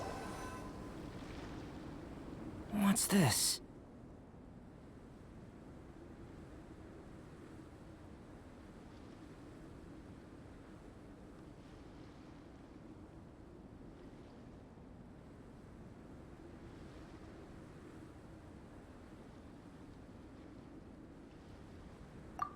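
Water draining away as the level drops in Genshin Impact: a steady, low rushing wash that runs the whole time, opening with a brief louder clatter, and a voice asks a short question near the start.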